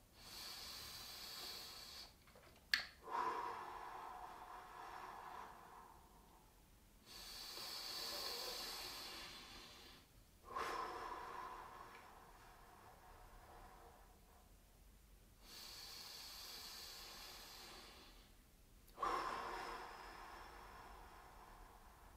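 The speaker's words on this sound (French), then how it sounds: "On est parti pour 3 grandes respirations" Three slow, deep breaths during a gentle stretching exercise, each a soft, close, airy inhale and exhale of several seconds, spaced evenly apart over quiet room tone.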